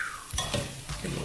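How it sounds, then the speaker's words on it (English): A spoon stirs beans cooking in a hot pan, scraping in a few quick strokes up close over a steady sizzle. "Give it a little stir."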